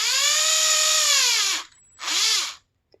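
An electric drill bores out a rivet on a 2021 Hot Wheels '06 Pontiac GTO toy car, whining loudly at a steady pitch for over a second, then dropping off before a second, shorter burst spins up and winds down.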